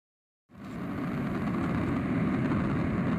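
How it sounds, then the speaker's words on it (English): Water running in a residential plumbing stub-up, heard through a LeakTronics leak detector as a steady broadband hiss and rumble that starts abruptly after a moment of silence and holds evenly, with no talking. "it's the sound of water running when touching a stub up"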